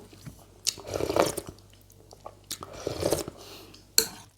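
Crunchy beef skin from a homemade beef noodle soup is chewed up close, giving bursts of wet crunching and squishing bites separated by short pauses.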